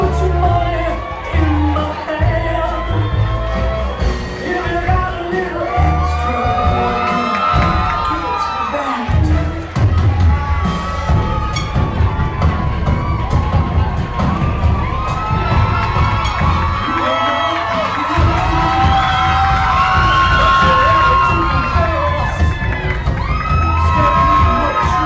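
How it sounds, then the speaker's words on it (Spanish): A pageant audience applauds and cheers for contestants modeling evening gowns, loud sustained clapping mixed with whoops and shouts from a large crowd, while music and occasional voices run underneath throughout. "fuerte el aplauso para ellas"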